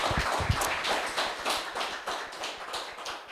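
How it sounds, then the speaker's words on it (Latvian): Audience applause and clapping at a live prize-draw event, a steady patter of many hands sustained throughout with a few sharper claps near the start. "Aplausi!"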